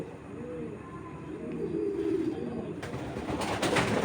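Locally collected racing pigeon cooing nearby in several soft, rolling low calls, faint over a light background hiss.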